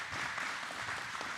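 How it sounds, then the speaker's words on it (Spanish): Church congregation claps together in a brief, moderately faint burst of applause with a soft crowd wash behind it. "Vamos a darles un aplauso."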